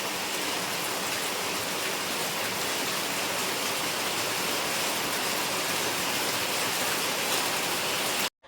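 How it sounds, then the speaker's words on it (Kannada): Heavy rain pours down in a steady, dense hiss that stays loud and unbroken for about eight seconds before cutting off abruptly, with no voices. "ನೋಡಿ ಎಷ್ಟು ಜೋರು ಮಳೆ ಬರ್ತಾ ಇದೆ ಅಂತ."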